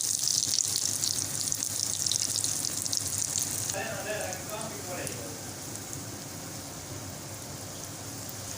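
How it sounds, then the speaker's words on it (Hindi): Potato mayo chicken rolls fry in hot oil with a steady, close sizzle that fades a little partway through, while brief clinks of tongs turning them sound over the bubbling. "ये रोल हमारे अच्छी तरह फ्राई हो चुके हैं,"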